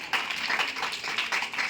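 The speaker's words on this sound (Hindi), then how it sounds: "ताली बजाओ सब" A room full of schoolchildren claps together in a classroom, a dense, steady patter of many small hands lasting the whole moment at an even loudness.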